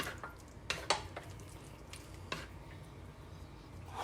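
Orange chicken sauce cooking and thickening in a pan: faint clinks and scrapes from stirring over a soft, steady bubbling hiss, the taps scattered and quiet.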